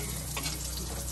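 Onions frying in a pan, a steady close sizzle throughout this brief moment with no talk.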